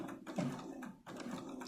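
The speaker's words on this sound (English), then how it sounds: "And you're going to sew right below where your clips end." A sewing machine stitches the waistband of a small doll skirt, its motor whirring in short, steady runs with brief pauses between them, close and fairly quiet.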